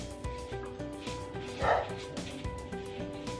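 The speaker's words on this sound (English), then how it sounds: "we have a British Spaniel" A British Spaniel gives one short, moderately close bark amid a busy indoor background with steady tonal hum and low clatter.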